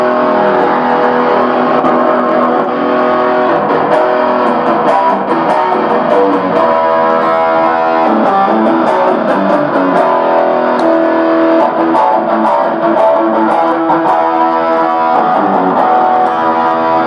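Electric guitar played through a distortion effect, a thick sustained overdriven tone with chords and riffs ringing continuously at steady loudness, no voices over it.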